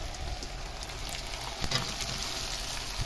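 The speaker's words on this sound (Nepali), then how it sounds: "अब टमाटर हाल्छु है म।" Tomatoes hit a hot pan of spiced cooking and fry with a steady, close crackling sizzle, with a brief louder burst of spattering partway through and no voices.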